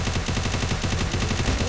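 Rapid automatic gunfire in a shooter video game, a loud, continuous burst of evenly spaced shots, close and dense, with no voices over it.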